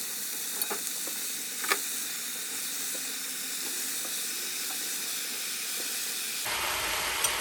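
Meat and vegetables for a ragu sizzle steadily in a pan, a broad even hiss with occasional clicks and taps of stirring, heard alone without talk and shifting tone near the end.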